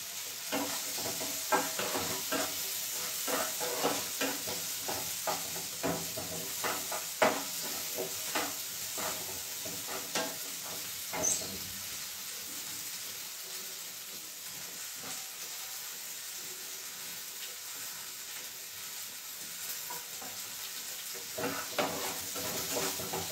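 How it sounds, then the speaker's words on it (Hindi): Vegetables sizzle and fry in a hot pan for fried rice while a utensil stirs them in steady scraping bursts, a continuous hiss running underneath throughout. "यहाँ पे सब्जी फ्राई हो चुका है"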